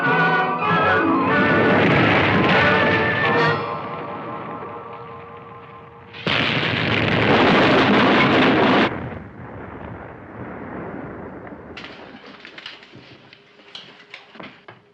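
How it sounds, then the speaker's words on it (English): Chunks of ice strike a submarine as a film sound effect from the 1959 movie The Atomic Submarine: heavy rumbling crashes and booming impacts in loud surges that rise and fade, giving way to scattered rattling debris. "Those chunks of ice are coming right at us."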